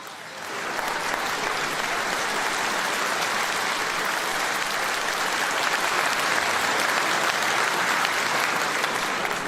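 A large crowd in Sunderland stands, cheers and applauds in a steady, dense roar of clapping that swells in at the start and holds loud and unbroken throughout, with no voice speaking over it.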